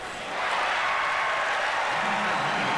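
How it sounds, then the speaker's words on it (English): Basketball crowd at a Denver Nuggets vs Golden State Warriors game letting out a sarcastic cheer, a broad, sustained roar of arena noise that swells in and holds steady throughout. "Fans with a sarcastic cheer."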